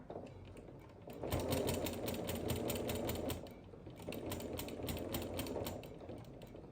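A sewing machine stitching a baby quilt in two steady runs, its rapid mechanical whir and clatter rising and falling, close by with no voices.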